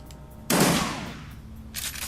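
A shotgun fires once in the video game Shadowrun: Dragonfall, a sudden loud blast with a decaying tail, followed by a shorter burst of noise near the end.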